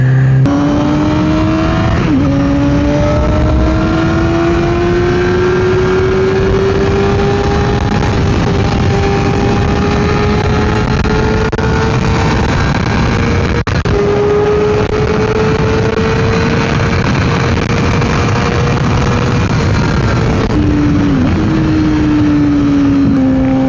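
A Yamaha R6 600cc sport bike is ridden hard, its loud, high engine whine climbing steadily through the gears with several quick upshifts breaking the rising pitch.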